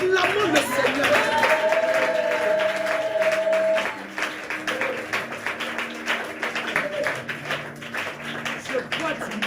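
A church congregation clapping and acclaiming the Lord during a deliverance worship service, with rhythmic hand claps under sustained musical tones and voices, loudest at the start and then continuing more unevenly.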